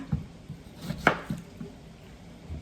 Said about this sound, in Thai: ก็จะหั่นส้มนี้ไปเรื่อยๆนะคะ